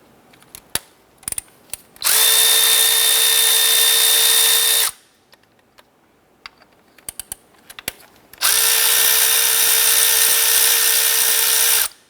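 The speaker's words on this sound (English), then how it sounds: "we're going to use our 10mm socket, remove the 4 bolts, securing our ignition coils in place" On a 2007-2012 Nissan Versa engine, a power tool with a 10mm socket spins out ignition coil bolts in two sustained, loud whirring bursts, separated by small clicks and handling noises.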